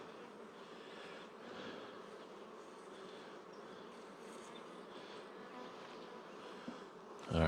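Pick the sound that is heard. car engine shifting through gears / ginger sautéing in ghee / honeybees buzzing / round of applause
honeybees buzzing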